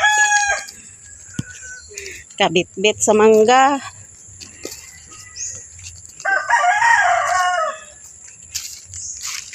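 A red rooster crows loudly nearby, and a second crow or cluck follows, over steady insect chirping, with brief speech near the start.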